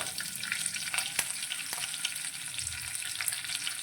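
Curry leaves for moong dal sizzle and spit in hot oil in a pan. A steady close crackle carries a few sharp pops and some light stirring, with no voices.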